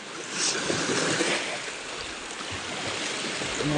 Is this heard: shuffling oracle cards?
no